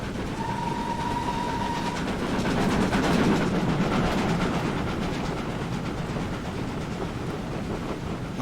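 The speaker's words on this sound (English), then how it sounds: "Another steam train." A steam train passes in the Train Simulator 2021 video game on the Riviera Line in the fifties, a loud, continuous rumble with rhythmic rail clatter and a brief whistle-like tone near the start.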